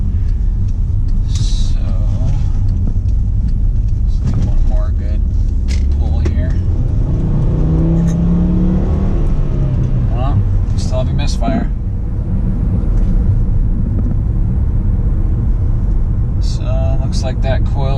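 A Volkswagen Jetta engine with a misfire idles as a steady low rumble close by, with a few intermittent clicks and knocks over it.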